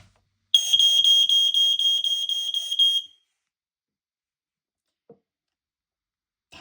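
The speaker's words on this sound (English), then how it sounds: "That alarm is loud." An Ei2110 multisensor smoke alarm sounds during a test, a loud piercing rapid beeping tone lasting about two and a half seconds, then cutting off to near silence with a couple of faint knocks.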